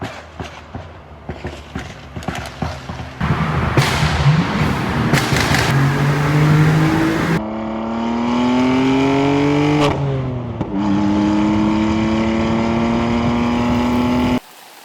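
A 2015 BMW M4 (F82) revs up and down through a full titanium catback exhaust, a loud rising drone with sharp throttle blips and clicks, close by and with no talking.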